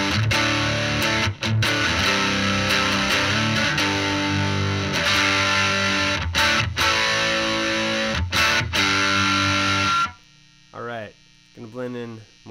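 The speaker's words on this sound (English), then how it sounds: "Gonna blend in some distortion now." An electric guitar plays through a Falcondrive overdrive pedal with distortion blended in, loud saturated chords with a few brief cut-offs, then it stops and a voice speaks over a faint hum.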